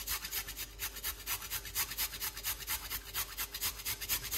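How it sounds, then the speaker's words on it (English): An avocado seed is grated by hand on a kitchen grater, giving steady rhythmic rasping strokes about four per second, close and fairly quiet with no talk. "So we're gonna grate the avocado seed like this."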